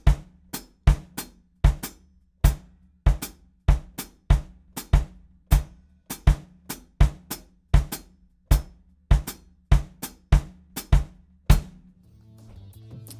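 Drums played with the feet in an interlocking 4-against-5 polyrhythm, evenly spaced low thumps and sharper hits repeating steadily for about twelve seconds, clear and close, no talking.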